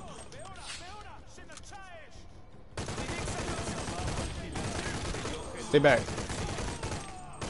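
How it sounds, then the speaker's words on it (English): Rapid video game gunfire bursts in a dense, continuous fusillade, loud and sustained, with a player talking over the shooting. "I just missed all those shots."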